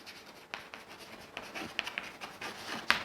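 Chalk or marker scratching on a board during a maths lesson, in short, quiet strokes and taps with small gaps between them, close up and alone.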